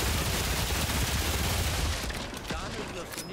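Dense, loud gunfire from the video game Remnant 2 fills the opening two seconds as a continuous barrage, then thins into a few scattered shots over quieter game sound.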